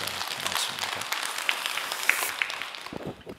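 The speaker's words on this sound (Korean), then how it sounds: "우리 박수 한번 해주시기 바랍니다" A Korean church congregation applauds after a hymn, a fairly soft patter of clapping that fades toward the end.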